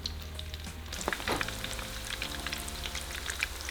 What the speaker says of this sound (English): So just fry your tacos until they're nice and golden.